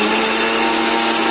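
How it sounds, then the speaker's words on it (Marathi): An electric kitchen mixer grinder whirs steadily and loudly, grinding garlic cloves, green chillies and chopped ginger into a puree, a constant high buzzing drone with no pauses and no voices. "तर आता हे मिक्सरमध्ये आपण मस्तपैकी वाटून घ्यायचं"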